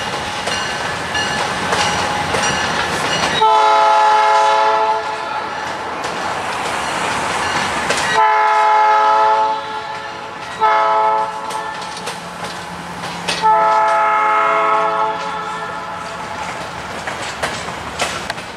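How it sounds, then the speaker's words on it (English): An Adirondack Railroad train passes close by, sounding loud, repeated horn blasts of several seconds each over the continuous rumble and clatter of the rails. "So we'll catch this train a few other spots"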